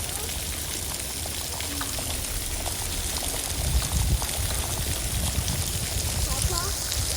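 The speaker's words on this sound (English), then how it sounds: "But there's lots of water falling down." Lots of water pours and splashes down during a snowstorm in Little Rock, Arkansas, a steady dense wash of falling water with a heavier surge midway, under faint wind and distant background noise.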